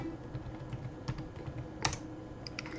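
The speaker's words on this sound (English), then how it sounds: "I'm typing with my left hand" Keystrokes on a computer keyboard typed one-handed, a steady patter of close clicks with a few louder taps and a brief rustle partway through.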